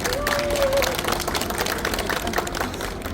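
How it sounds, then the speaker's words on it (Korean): Audience applause at a formal memorandum-signing ceremony as guests are introduced; steady, dense clapping fills the room at a constant level throughout, with a faint tonal hum underneath. "박수 부탁드립니다"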